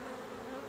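Honeybees in a horizontal hive open for inspection give a continuous close buzzing hum, brief and steady, with no voices.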